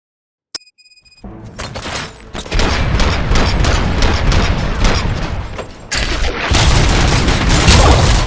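In the video game RoboCop: Rogue City, a sudden boom gives way to sustained, dense bursts of rapid gunfire and crashing impacts, loud and chaotic, continuing with a fresh intense barrage.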